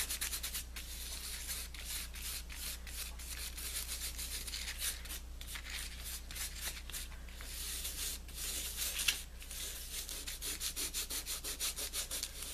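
Fingers rub glitter onto the page of a handmade craft mini album, a steady close scratchy brushing that continues without a break and softly pulses in short repeated strokes toward the end.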